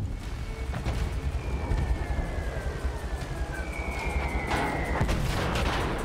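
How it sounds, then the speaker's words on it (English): Mortar fire in the video game Battlefield 1, dense rumbling booms and crackling blasts layered over a continuous battlefield din, with whistling tones sweeping across the mix. "I'm just trying to drop as many mortars to delay them."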